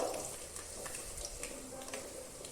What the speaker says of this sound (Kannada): ಈಗ ಈರುಳ್ಳಿನ ಅಂದರೆ ಬ್ರೌನ್ ಕಲರ್ ಬರೋ ಅಷ್ಟುವರೆಗೆ ಹುರ್ಕೊಳ್ಬೇಕು